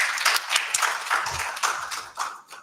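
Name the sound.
applause at a book launch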